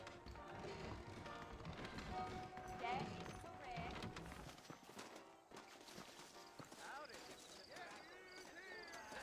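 Saddled horses clop along in Red Dead Redemption, with a faint steady patter of hooves running beneath game dialogue and background music throughout.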